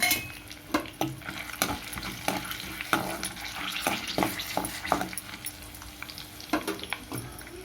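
Dried red chillies frying with peanuts in a pan for puliyodharai, a steady close sizzle broken by repeated sharp clinks and scrapes of a spoon stirring against the pan.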